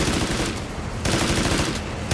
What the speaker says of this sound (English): Who the fuck is he shooting at?